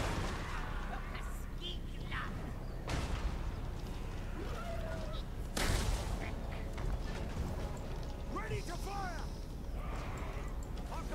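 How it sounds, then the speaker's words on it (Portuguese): Cannon blasts and tower fire from a Total War: Warhammer 2 battle rumble through dense continuous battle noise, with a few sharper booms standing out among the clamor. "O canhão tenta destruir essa torre aqui"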